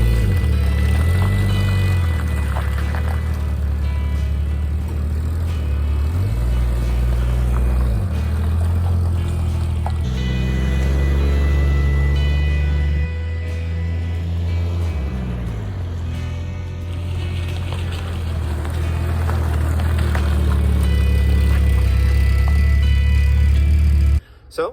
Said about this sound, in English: So I'm gonna take her for a drive and see if any of the bolts came loose and if we have to torque stuff back down.